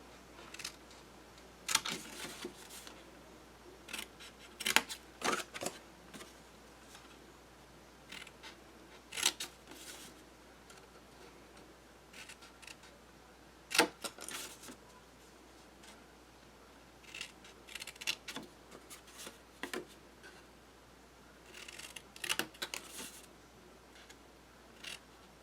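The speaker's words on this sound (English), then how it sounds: "we're going to go ahead and cut all 4 corners off" Scissors snip the four corners off scored paper for an Explosion Box Album, giving a series of short, crisp cuts spaced apart in a quiet room, close and fairly faint.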